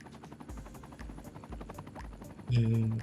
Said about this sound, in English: I can't see any helicopter in here, but it's making a lot of noise.